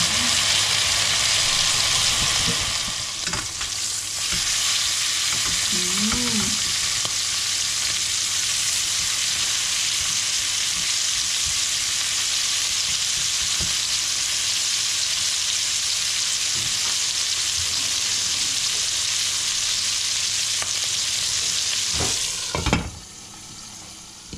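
Pork sizzles steadily on a hot grill, producing a loud, continuous hiss and crackle with occasional brief shifts and a sharp knock near the end.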